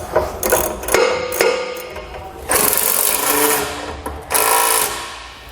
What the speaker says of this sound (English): Now we're going to take a 3/4 inch socket or a 19. We can go ahead and snug up these bolts.